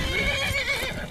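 A horse in the video game Skyrim whinnies loudly in a shrill, wavering neigh, close up and alone, lasting about a second.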